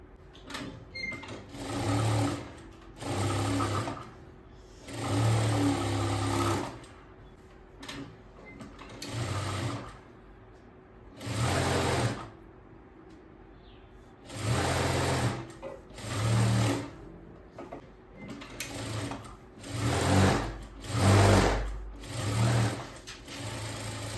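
A sewing machine stitches a lined blouse sleeve in repeated bursts of fast, loud whirring, each run lasting a second or two, separated by short quiet gaps.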